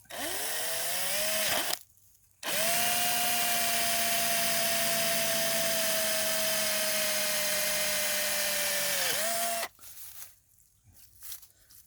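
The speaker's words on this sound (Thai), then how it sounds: "ตรงนี้เราเจาะไปเลยสิบหกสิบเจ็ดมิลนะอย่าไปใช้สิบหก" A power drill bores a 16-17 mm hole in a PVC pipe, giving a loud, steady high whine for about seven seconds that starts and ends with a brief pitch dip, framed by short quiet handling noises.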